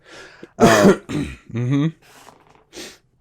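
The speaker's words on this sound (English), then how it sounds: "Sorry, I just coughed a little bit." Several harsh coughs and throat-clearing bursts in quick succession, loud and close, with breathy pauses between.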